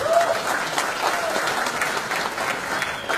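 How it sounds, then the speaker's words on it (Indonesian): Attendees at a national figures' meeting applaud, a steady, dense spread of clapping at moderate distance with a faint voice or tone near the start. "tepuk tangan lagi Pak Bernardo itu"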